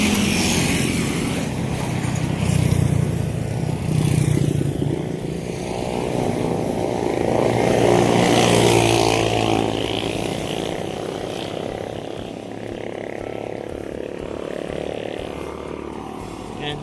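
Heavy engines of trucks passing on a seaside road, rumbling and droning as they approach and fade over several seconds, with a voice talking at times.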